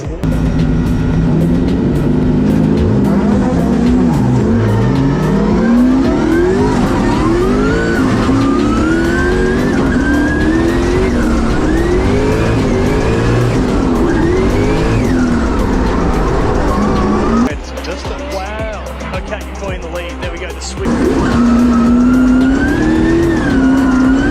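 A 2,300-horsepower drift car at a drift competition at Sydney Motorsport Park screams through sustained high revs with rising and falling engine pitch, loud and close, then briefly drops to a muffled lull before roaring again, with no speech heard.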